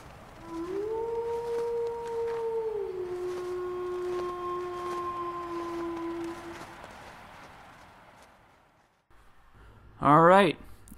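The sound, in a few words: sled dogs howling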